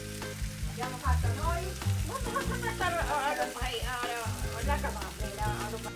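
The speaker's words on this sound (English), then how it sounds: "adds some olive oil to a sauté pan and adds the veg mixture" A vegetable mixture sizzles and fries steadily in olive oil in a sauté pan, a loud continuous crackle with stirring scrapes running through it and music playing alongside.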